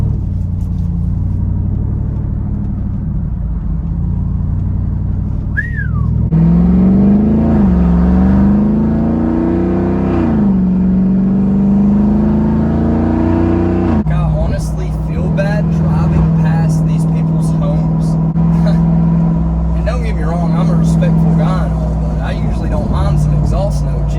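A straight-piped Jeep Wrangler Rubicon 392 revs loudly and close by, its exhaust note climbing and falling in several surging sweeps before settling into a heavy, steady rumble, with voices in places.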